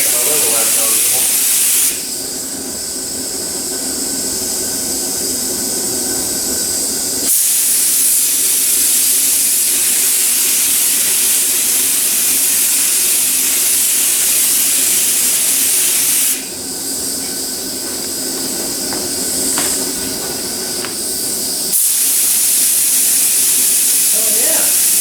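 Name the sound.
spray gun applying primer to repaired plastic car bumper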